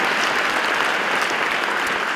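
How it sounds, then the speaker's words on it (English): Dense, even clapping from a school honors assembly audience in Illinois, continuous and loud throughout, with no speech over it. "a big round of applause"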